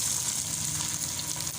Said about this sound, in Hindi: इसको भी अच्छे से हम शैलो फ्राई करेंगे।